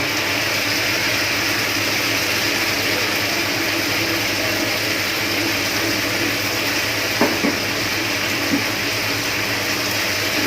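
Prawns cook in the masala of a prawn malai curry in a pan, giving a loud, continuous frying hiss and sizzle with a couple of faint utensil knocks partway through.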